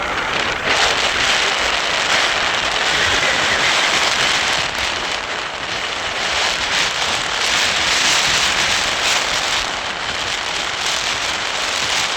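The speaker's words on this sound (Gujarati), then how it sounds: "જો વરસાદ પણ આવે છે" Steady, dense rain falls outdoors in a village, a continuous even hiss of drops at an unchanging level from start to end, with no voices.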